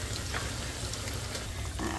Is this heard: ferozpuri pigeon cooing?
no